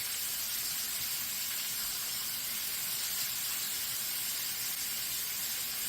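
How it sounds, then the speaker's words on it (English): Bacon cooks in a skillet with a steady, hissing sizzle that carries on without a break at a moderate level, with no voices over it. "while this bacon is cooking up"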